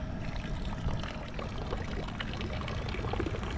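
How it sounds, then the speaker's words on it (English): Water trickles and pours steadily out of a homemade live bait tank, a continuous close splashing flow that runs unbroken with no talking. "So we're about to have this water trickle out"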